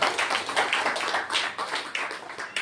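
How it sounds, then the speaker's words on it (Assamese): A church congregation claps loudly together, a fast, dense, slightly uneven patter of many hands sustained over a few seconds, close and energetic, with no speech. "জোৰকে তালি বজাই ঈশ্বৰ আৰু এবাৰ ধন্যবাদ কৰো"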